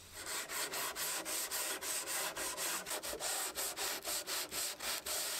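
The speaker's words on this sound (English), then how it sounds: "I did some hand sanding just to soften the corners and prevent any chance of the veneer splintering" Hand sanding along plywood edges to soften the veneered corners: a steady run of about twenty rhythmic back-and-forth rubbing strokes, close and fairly loud, with no voices.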